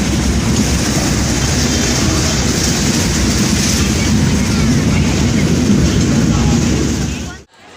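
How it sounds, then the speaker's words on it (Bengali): A passenger train runs along after pulling out, its wheels giving a loud, steady rumble and clickety-clack from inside the carriage before the sound cuts off abruptly at the end. "ট্রেন স্টার্ট হয়ে গেছে এই যে বসে আছে ট্রেনে"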